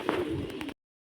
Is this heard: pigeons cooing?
yes